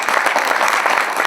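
Audience applause greets a university economics dean at an evening book presentation in Quito, a steady dense patter of many hands clapping at close range throughout, with no voices over it.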